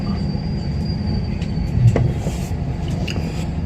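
Udyan Express passenger train running on rails in Karnataka, heard from inside a coach as a steady low rumble with faint rhythmic clicks and a thin high squeal, plus an occasional sharper knock from the wheels.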